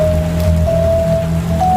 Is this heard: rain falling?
yes